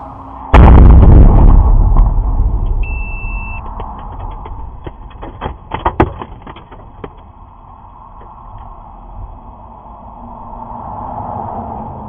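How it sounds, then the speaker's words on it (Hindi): Iranian cluster ballistic missiles strike Tel Aviv, Israel: a loud, close explosion erupts and rumbles away, followed by scattered sharp pops and cracks over a lingering low roar, with no voices. "ईरान की काफ़ी सारी क्लस्टर बैलिस्टिक मिसाइलें लगातार तेल अवीव और इजराइल के इलाकों में जाकर गिरती हुई नजर आ रही हैं"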